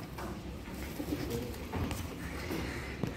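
Fantail pigeons give soft, low cooing calls in repeated murmurs. The calls sit fairly faint under a steady background hiss with no speech.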